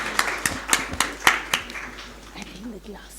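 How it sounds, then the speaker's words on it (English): Scattered clapping from a conference audience, a handful of sharp separate claps in quick succession that then thin out, with voices talking underneath. "Ladies and gentlemen, please give a big round of applause to them."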